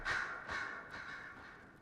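Crows caw in the video game Dragon Age: Inquisition, two or three harsh, clear calls close by in quick succession, fading into quiet ambience.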